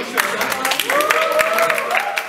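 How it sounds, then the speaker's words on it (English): Scattered hand claps from an audience at a talk on martial arts and Brazilian Jiu-Jitsu, welcoming a volunteer, with a voice speaking over the sparse clapping. "a huge round of applause for"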